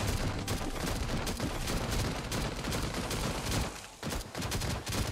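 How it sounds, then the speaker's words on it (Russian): Sustained machine gun fire from a heavy gun in the Last Day on Earth survival game, shooting at armored cops; dense, loud, continuous bursts with a brief pause near the end before firing resumes. "даже мой новый супер пулемет, смотри что, я их полчаса колупаю"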